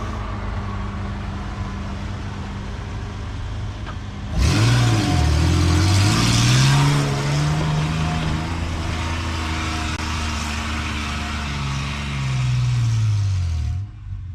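A Ford Explorer engine revs hard as it climbs a sandy forest hill, a loud sustained roar that rises and falls in pitch through the climb and cuts off near the end, with no talk.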